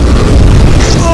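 A short, dull boom bursts out amid noisy commotion, with a brief rumble following.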